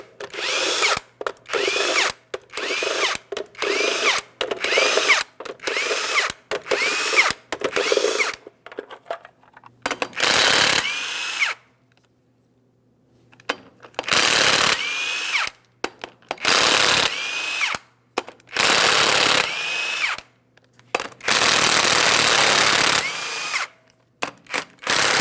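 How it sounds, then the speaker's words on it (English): A power tool spins off the eight 22mm lug nuts on a 2007-2014 GMC Sierra 2500 HD wheel in loud, close bursts, first in quick repeated pulses and then in longer whirring runs separated by silent pauses. "we'll remove all 8 of our 22mm lug nuts as well so we can remove the wheel"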